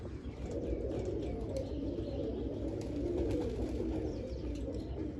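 Pigeons cooing softly over a steady low rumble of background noise, with occasional faint chirps and flutters.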